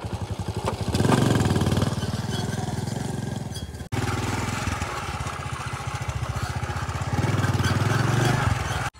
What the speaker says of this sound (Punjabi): ਹੁਣ ਪੁੱਠੇ ਚੁੱਕ ਕੇ ਮੋਟਰਸਾਈਕਲ 'ਚ ਰੱਖੀਏ ਅਤੇ ਲੈ ਕੇ ਚੱਲੀਏ